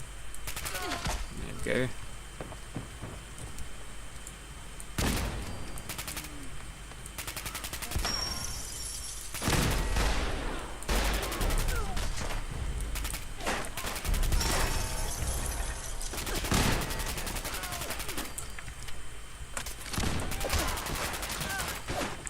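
A modded Handmade Rifle fires in the video game Fallout 4, bursts of rapid automatic shots loud and close, starting and stopping in repeated volleys, with brief talk between them.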